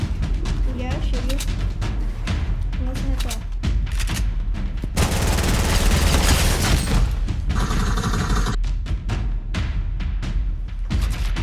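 Rapid Fortnite gunfire crackles in bursts through a dense, busy game mix, with a louder sustained volley in the middle, while players talk over it.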